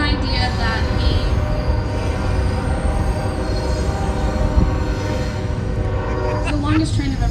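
A long train passes close by, its wheels squealing over a loud, continuous rolling rumble that holds steady throughout.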